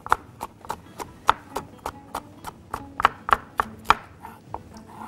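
Hot chili pepper chopped on a cutting board for shrimp maqluba, a rapid series of about twenty sharp knife knocks, close and crisp, in an uneven but steady rhythm.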